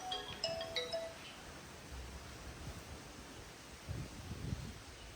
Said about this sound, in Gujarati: પપ્પાનો ફોન વાગે છે